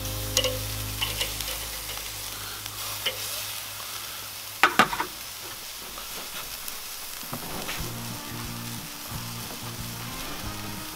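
Chicken breasts cook on a Weber kettle grill with a soft, steady sizzle and crackle. A low hum runs underneath, broken by a few sharp clanks midway as the pieces are flipped.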